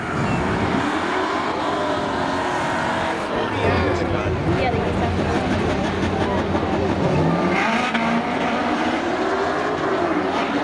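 Race cars at Seekonk Speedway during spectator drag racing scream past with rising and falling engine revs and shifting pitch, loud and close, with a commentator talking over the engine noise throughout.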